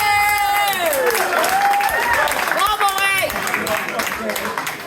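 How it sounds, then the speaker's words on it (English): A party audience claps and cheers for people on stage, with excited shouts and whoops rising over the applause, loud at first and gradually tapering off. "big round of applause for these people on stage"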